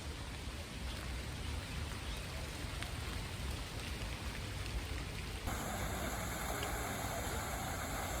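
Steady, heavy rain pours down nearby in Madrid, a dense continuous patter of drops hitting surfaces, growing slightly harsher toward the end.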